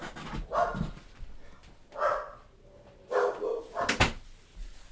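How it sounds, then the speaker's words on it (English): A pet dog at a house window barks and yips in short bursts, several separate barks spread over a few seconds, moderately close and somewhat muffled indoors. "My dog just sits in the window and barks at people."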